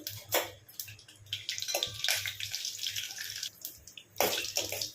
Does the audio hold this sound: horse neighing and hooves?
no